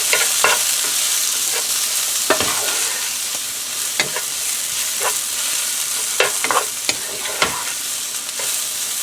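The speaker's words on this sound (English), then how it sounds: "Go ahead and throw the mushrooms back in." Mushrooms tossed back into a hot pan sizzle with a bright, constant frying hiss, punctuated by frequent sharp clicks and scrapes of stirring, close and fairly loud with no voices.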